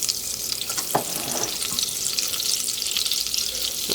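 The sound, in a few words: butter and bacon fat heating in a pan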